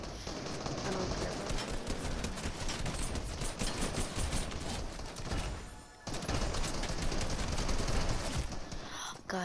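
Assault rifle fire from Fortnite rattles in dense, rapid bursts for nearly the whole stretch, loud and close, with a brief dip in the barrage before the shooting resumes just as heavily.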